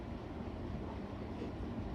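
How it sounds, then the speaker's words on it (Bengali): A metro train runs past alongside, a faint, steady low rumble and rolling roar lasting the whole two seconds, without any speech. "সাইড দিয়ে আবার একটা মেট্রো চলে গেল।"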